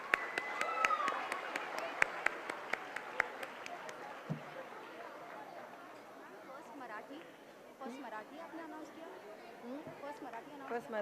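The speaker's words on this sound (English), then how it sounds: "Big round of applause, guys." Clapping at a youth governance event in a large hall as schools are called on stage, scattered sharp claps in the first few seconds that fade into crowd chatter and moving voices.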